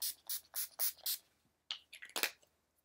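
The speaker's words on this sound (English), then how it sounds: "I take a little bit of setting spray, which is, this is NYX Matte Finish Setting Spray." NYX Matte Finish setting spray mists onto a face in five quick pumps, a pause, then four more hissing bursts, close and crisp with no talking.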